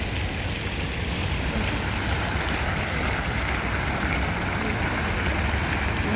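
A water fountain in Tsuen Mun Park, Hong Kong, with dolphin figures splashes in a steady, dense rushing hiss that holds at an even level throughout, with no voices.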